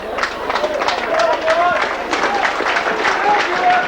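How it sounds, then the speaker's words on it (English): Rugby league supporters at a Heworth versus Halifax cup match cheer and applaud the teams off the pitch, a steady crowd roar with scattered clapping close by, with someone talking over it. "You can hear the supporters here cheering the teams off the pitch"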